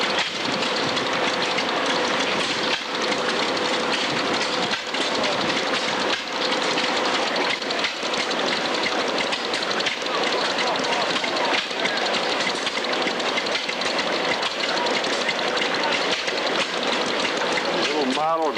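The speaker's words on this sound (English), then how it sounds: "Little model gas-operated engine. Just started her up." A small gas-operated model engine runs at a show, a steady buzzing drone that holds throughout with faint clicks, under distant crowd chatter and occasional nearby voices.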